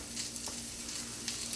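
Potatoes fry in hot oil for breakfast tacos, a faint steady sizzle and crackle throughout, close and without talking.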